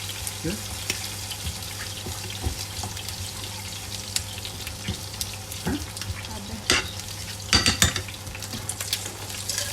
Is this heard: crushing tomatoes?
yes